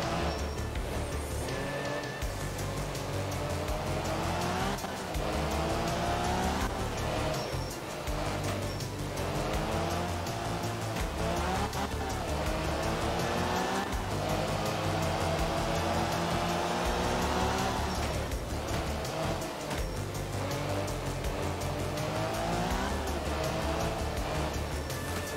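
A Mini rally car in the Art of Rally video game climbing a hillside stage, its engine revving steadily up and down through gear changes with continuous road noise and occasional tire squeal, loud and sustained throughout.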